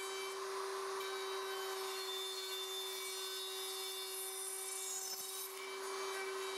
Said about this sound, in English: route into every open slot in the template